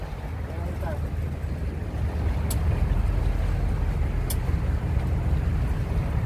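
Boat ride along the Doha corniche, with a steady engine drone and water wash close by, gusts of wind buffeting the microphone, and a couple of sharp brief ticks cutting through.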